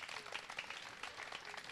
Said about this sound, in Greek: Χειροκροτήστε τον Απόστολο, παρακαλώ πολύ.